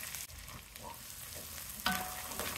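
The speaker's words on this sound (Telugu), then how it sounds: "ఒకసారి తిప్పుకున్నాం, సిమ్ మీదే కొంచెం వేగనిద్దాం." Small chopped onions fry and get stirred in a pan on low heat, a close continuous sizzle with a scrape of the spoon and a slight surge near the end.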